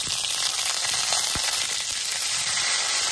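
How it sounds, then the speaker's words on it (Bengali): Ginger and cumin paste frying in a pan over browned garlic and onion makes a continuous dense sizzle, close and fairly loud, with a faint stir knock partway through. "আদা জিরাটা ভালো করে ভেজে নিব।"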